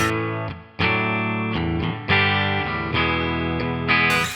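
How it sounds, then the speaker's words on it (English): Electric guitar plays a sequence of ringing chords and notes through a NUX amp modeling a Fender Super Reverb clean tone, with some reverb, moderately loud, no voices. "I have selected the super reverb for the Fender clean sound, and that's what this sounds like."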